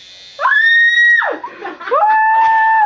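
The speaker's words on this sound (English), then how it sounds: "You screaming in my ear." A woman being tattooed lets out long, loud, high-pitched screams, two sustained cries close to the mic, with a brief shaky breath between them.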